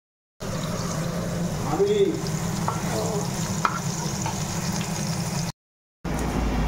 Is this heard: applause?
no